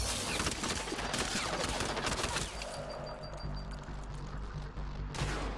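Sustained rapid gunfire from an enemy's big gun during a Mass Effect: Andromeda firefight, dense overlapping shots for most of the stretch, easing before a final loud burst, with no talk.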